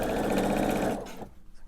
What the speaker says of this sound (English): So I'm gonna sew that